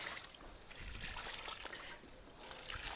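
Water poured out onto garden plants and flowering shrubs, a steady trickling, splashing flow that runs continuously at close range and swells and eases slightly.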